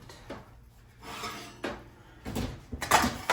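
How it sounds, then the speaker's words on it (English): A muffin pan of banana nut bran muffins comes out of the oven with metallic scraping, a rack sliding and light clanks, building louder toward the end at close range. "Go ahead and pull the other ones out."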